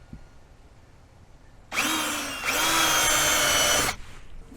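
A power drill bores holes into the corners of a pontoon boat panel, a loud whining burst lasting about two seconds with a brief pitch change midway, set against a quiet background.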